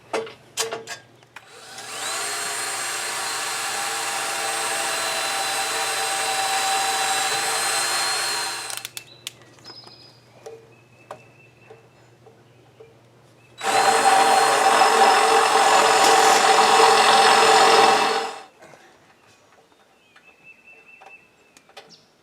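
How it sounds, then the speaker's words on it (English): Two long bursts of a high-pitched power drill whirring steadily as it drills a hole in the front winch fairlead of a Jeep Wrangler, separated by a short pause with small handling clicks and knocks. "we want to drill a hole on the front of the vehicle"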